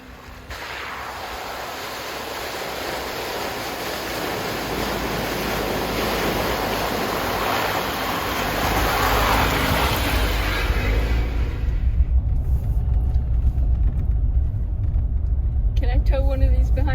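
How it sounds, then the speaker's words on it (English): A Jeep drives through a mud puddle on a forest trail in Withlacoochee State Forest, giving a steady rushing, splashing roar with wind buffeting the microphone, then quieter engine rumble as it clears the water; a person talks over it. "drive through a mud puddle here. It's kind of fun."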